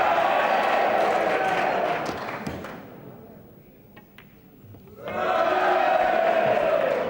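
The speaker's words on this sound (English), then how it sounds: "The crowd cheer with every pot." Crowd cheering and applauding at a 1997 Mosconi Cup pool match, a loud burst that fades to a hush and then swells into a second full roar.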